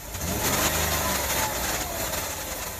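A 2005 Ford Escape engine with a misfire fault revving and then settling toward idle, a steady loud mid-range engine drone heard up close without speech.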